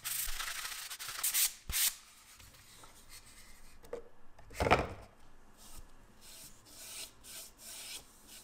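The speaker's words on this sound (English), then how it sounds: "When the first coat is dry, I lightly sand the surface and apply the second coat" A coated portable speaker box surface is lightly sanded by hand in scattered short, quiet rubbing strokes, with pauses between the bursts. The sound is faint overall and has no talk.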